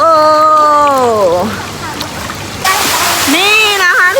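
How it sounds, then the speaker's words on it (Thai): The steady rushing splash of a waterfall at a Pattaya hotel water park comes in partway through, under someone talking loudly and excitedly close by. "น้ำตกสวยมากเลย"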